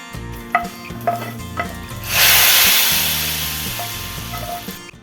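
Garlic and a dried chili tempering are poured into khichuri and set off a loud, sudden sizzle that swells and then slowly fades. Light stirring and clinks come before it and after.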